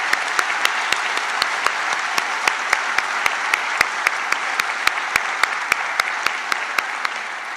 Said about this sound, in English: So can I just have a round of applause